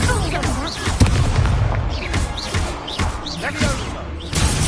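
A fiery Confringo spell blast in the Hogwarts Legacy video game, part of dense combat with repeated booming impacts and crackling bursts layered over busy game sound.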